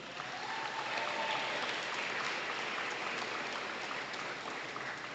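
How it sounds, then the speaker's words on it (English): Sustained applause from a seated audience at a Bentonville High School Athletic Hall of Honor induction ceremony, a steady even wash of clapping filling the hall throughout. "Would you please give a round of applause for Bentonville High School Athletic Hall of Honor inductee, Steve Birchie."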